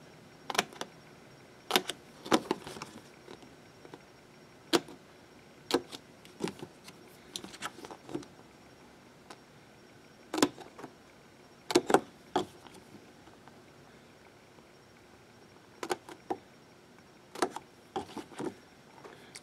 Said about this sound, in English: Then I'm just going to take some scissors and cut out the stem area, or where the little line is.